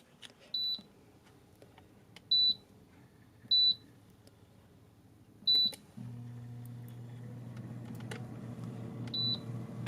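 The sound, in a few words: air fryer beeping as it is set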